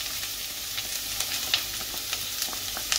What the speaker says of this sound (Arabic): هاهي دابا نلوحو القرعه ديالنا